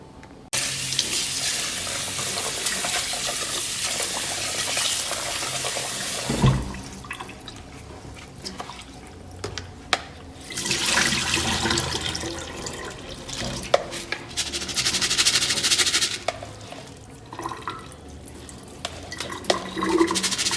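Water runs from a kitchen tap while rice is rinsed in a bowl, a steady splashing stream with sloshing and brief pauses, close and fairly loud, with no talking.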